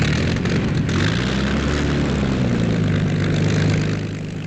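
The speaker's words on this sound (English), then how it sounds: "Engines burst into life." Engines of RAF Hawker Hurricane fighters start up in the Western Desert, a loud, continuous propeller roar with a droning pitch that wavers, heard close and without talk.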